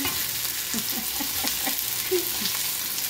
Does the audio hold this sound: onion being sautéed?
yes